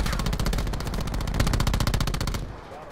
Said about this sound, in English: So, I shot you, Graham.